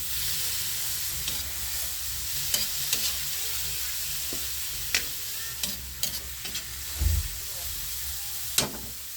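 Carrots sizzle and hiss in a frying pan, with steady frying noise punctuated by sharp scraping clicks of stirring and a brief low thump, close up and without talk.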